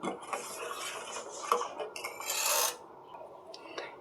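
A spoon scrapes and rasps against a pot while sago and almond powder are stirred into milk, giving close, irregular metallic strokes with a brief louder scraping burst midway.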